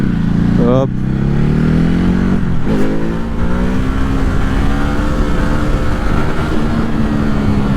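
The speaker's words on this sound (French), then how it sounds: "Vous entendez les beaux pétarades." A 2021 Ducati Hypermotard RVE motorcycle revs and accelerates up and down, its exhaust crackling with pops between throttle blips, loud and close throughout while someone speaks over it.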